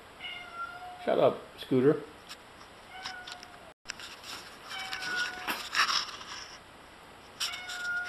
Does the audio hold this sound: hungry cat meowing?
yes